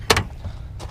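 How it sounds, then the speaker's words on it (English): A sticky door on a 1972 Chevrolet Chevelle Super Sport SS 350 pops open with a sharp clunk, a second fainter click following shortly after, alone over low background rumble. "That door is a little sticky getting open."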